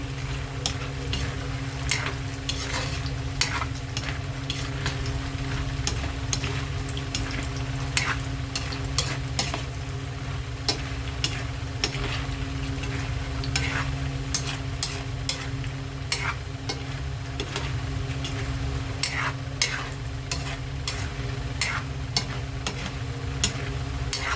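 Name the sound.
stirring peanuts frying in oil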